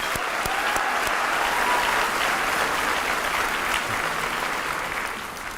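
A crowd at a school district's 2021 State of the District event gives loud, dense, continuous applause that stays even throughout and eases slightly at the close.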